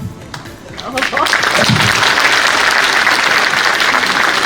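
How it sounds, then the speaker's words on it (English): Thunderous applause from students filling an auditorium, a loud, dense roar of clapping that swells after the first second and holds steady, with a voice briefly audible at the start. "that thunderous applause when I say dear to my students there will be heard in rest of India"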